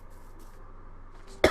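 A single short, sharp cough bursts out abruptly near the end, close and loud after a quiet stretch.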